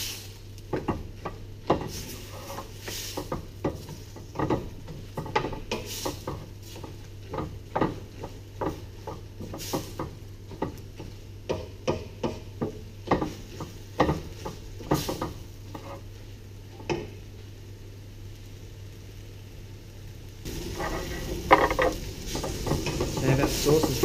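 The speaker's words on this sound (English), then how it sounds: "I've really got to cook that tomato paste for a further 2 to 3 minutes, stirring it right the way through our ragued vegetables." Tomato paste being stirred through cooking vegetables for a lamb shank ragu, a soft low sizzle under repeated scraping spoon strokes and clinks against the pot, busier and louder near the end.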